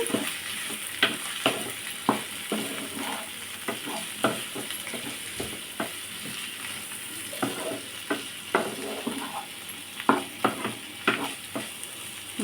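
Chili powder being stirred into a prawn curry in a pan, with a rhythmic series of spoon scrapes and clacks over a low frying sizzle, close and fairly steady throughout, no speech.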